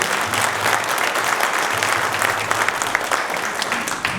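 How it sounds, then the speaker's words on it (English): Steady crowd applause for candidates for coroner at a county Republican candidate forum in Adams County, Idaho; dense, even clapping continues throughout at a moderate, constant level. "Let's give them one more round of applause."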